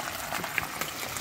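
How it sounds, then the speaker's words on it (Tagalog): Water is poured into a cooking pot outdoors in the mountains while sardines and pancit cook, a brief, quiet gurgling splash over a faint background. "Tapos lagyan ng konting water."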